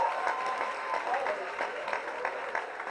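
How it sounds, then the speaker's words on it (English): A crowd applauds at a Swachh Bharat campaign event. The clapping is dense and steady and runs the whole length of the clip, with no gaps. "So huge round of applause, guys."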